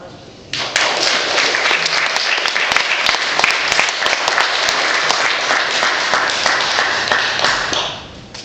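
Audience at a high school baccalaureate ceremony bursts into sustained applause, dense clapping rising sharply, holding for about seven seconds, then fading out.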